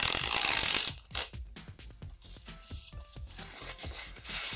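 Cellophane wrapping being torn and peeled off a Xiaomi aluminium mouse pad, with crinkling crackles and rustles close by, starting with a loud tearing burst and continuing in uneven bursts.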